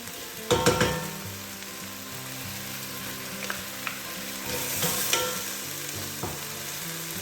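Onions with sugar and crushed garlic fry in a pan, a steady close sizzle with a few clattering knocks of utensils and ingredients dropping in early on, no talking.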